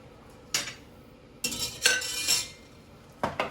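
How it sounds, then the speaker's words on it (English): A metal spoon scrapes and clanks against a pan of lamb paella in a few short, separate strokes, close and fairly loud, with quiet gaps between them. "I'm going to give it one nice stir to make sure everything's all even"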